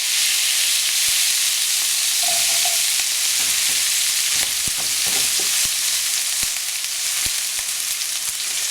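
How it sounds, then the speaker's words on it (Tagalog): Garlic and onion sauté in hot cooking oil in a pan for pancit bato guisado, giving a steady loud sizzle broken by intermittent scraping stirs. "ilalagay na natin yung garlic at yung onion. So, igigisa lang natin ito."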